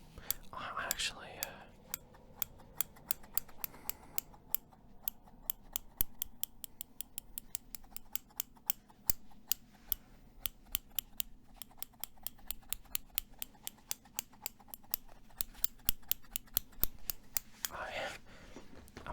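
Scissors snip repeatedly in a steady, crisp rhythm close by, with soft whispering at the beginning and end.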